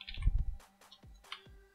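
Keys on a gaming computer keyboard clacking as HTML is typed, a short burst of quick clicks followed by a few separate taps, close and fairly quiet, with no talking.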